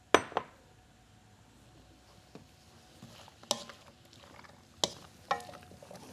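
Mixed vegetables with sugar snap peas stir-fried in a pan, a quiet background sizzle broken by a few sharp clinks and knocks of a utensil against the pan.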